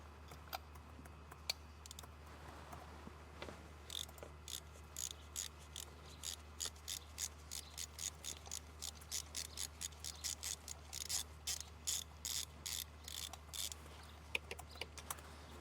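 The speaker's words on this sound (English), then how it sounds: "So Ian, go ahead and replace the spark plug on this cylinder" A hand ratchet clicks steadily while a spark plug is worked out of a Ford Escape engine with an intermittent cylinder misfire, about two dozen quick close clicks in an even rhythm, with a few scattered ticks and a low steady hum underneath.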